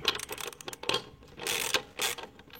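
Ratchet wrench loosening a bolt on a 50cc moped during chain and sprocket work, a handful of short metallic clicking bursts with pauses between, close and fairly quiet, no speech.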